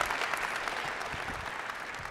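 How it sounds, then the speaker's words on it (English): A congregation applauding during a sermon, a dense, even wash of many hands clapping at a distance, steady throughout the brief moment. "go ahead, you can clap now"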